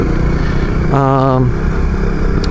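A 2018 Honda CRF250L dual-sport motorcycle on a fire and logging road, its engine droning steadily under wind noise, with a brief rising rev in the middle.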